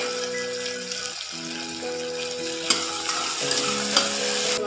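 Green chillies frying in a pan with salted onions for mutton kulambu, a continuous sizzle with occasional stirring scrapes, set against a steady background tone.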